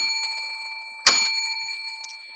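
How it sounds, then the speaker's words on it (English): Single sharp strike of a debate timekeeper's bell, ringing clear and bright with a sustained metallic tone that decays slowly, heard alone at moderate distance. "the timekeeper will ring the bell once at the 3rd minute to signal that the debater has 1 minute left"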